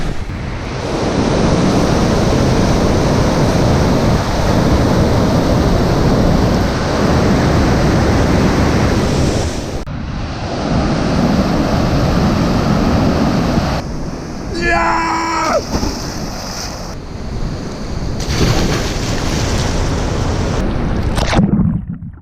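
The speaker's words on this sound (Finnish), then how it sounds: "esimerkiksi tämä koski, joka avautuu täällä" River rapids rushing loudly and steadily on a road trip through Lofoten, a dense roar of water with wind buffeting the microphone and a brief voice partway through.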